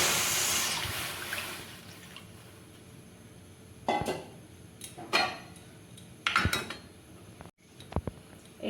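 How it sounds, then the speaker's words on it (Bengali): Milk poured into a kadai (wok) for a kheer filling for Mung-Madhuri pithe, a steady liquid pour at first, then a few sharp clinks and knocks of metal utensils against the pan, fairly close. "তার জন্য কড়াইতে দুধ দিচ্ছি।"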